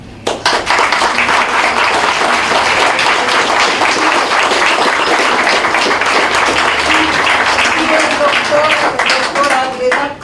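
Sustained audience applause at a tribute event honoring a writer, dense steady clapping filling the whole stretch at close range, with a few voices faintly mixed in near the end.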